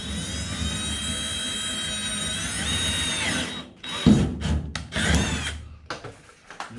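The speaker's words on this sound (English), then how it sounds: "this one I'm going to have to go up another step on the drill" A power drill bores into a workpiece, stepping up to the next bit size to widen an existing hole in a garage repair, running steadily and loudly before stopping and giving way to short bursts of rubbing and handling noise.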